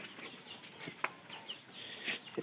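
Chickens cluck faintly in a pigeon-keeping yard, with a few short, scattered calls over quiet background noise and one louder cluck near the end.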